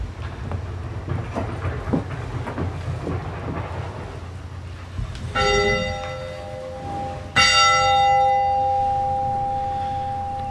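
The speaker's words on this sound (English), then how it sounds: "I want to welcome everybody back with the bell" A church bell rings for Sunday morning worship, struck about twice with loud, ringing tones that sustain and slowly decay, heard over low room rumble after a quieter stretch of ambient noise.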